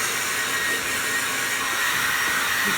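A hair dryer blows steadily and loudly while hair is pulled straight with a small brush, its even whooshing roar continuing unbroken for the whole stretch with no talk.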